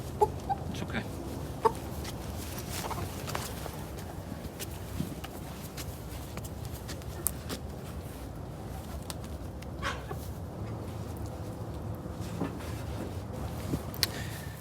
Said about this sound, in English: we will dispatch our first chicken. Hang them upside down by their feet.